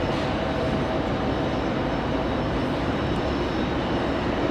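A United airliner on final approach at Raleigh-Durham International Airport gives a steady, broad engine roar that holds at even loudness throughout, with no voices.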